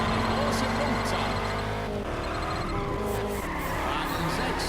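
Cars drifting in the racing game Juiced 2, tires squealing continuously over loud engine drone throughout, with someone talking over it.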